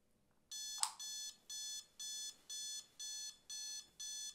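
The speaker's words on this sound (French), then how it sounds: "Le réveil sonne." An alarm clock rings in a quiet room with eight evenly spaced electronic beeping bursts in a steady rhythm, close and clear, with a single knock early on.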